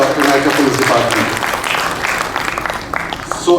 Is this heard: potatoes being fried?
no